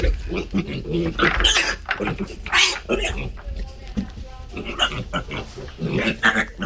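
Piglets at an agricultural center squeal and grunt in sharp, repeated bursts close by, with someone talking over the noisy animals throughout.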